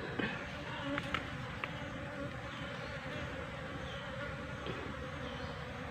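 Asian honey bees (Apis cerana) swarming around a hive box outdoors give a steady, dense buzzing drone that continues without a break.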